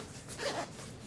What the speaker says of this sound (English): I just pop it in here and zip it up.